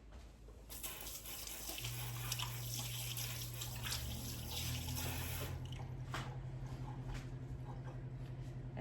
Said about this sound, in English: And then wash my hands again.